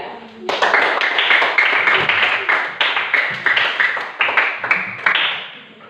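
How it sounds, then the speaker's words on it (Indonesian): A classroom of students claps for group 3 with loud, steady, close applause lasting several seconds. "kita memberikan aplaus bagi kelompok 3"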